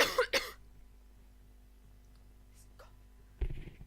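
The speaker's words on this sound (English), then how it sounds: "this cough" A man coughs twice in quick succession, close and sharp, followed by near-silence and then another brief cough-like burst.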